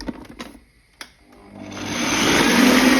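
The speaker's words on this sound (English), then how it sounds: "blend it some more" A blender blending lamb liver pâté starts after a few short clicks and knocks, then spins up into a loud, steady whirring that builds and holds to the end, with no talk.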